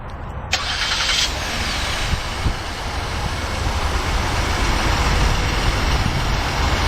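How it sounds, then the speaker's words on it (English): A 2011 Ford Explorer Limited idling steadily after a remote start, a continuous broadband engine drone heard close up and fairly loud, with a faint click at the start. "We'll let the engine run for a while."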